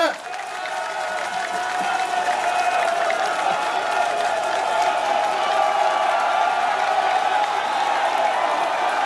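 Dense crowd applause with cheers and whoops at a carnival launch event, a steady loud roar of clapping that sustains throughout, with voices mixed in.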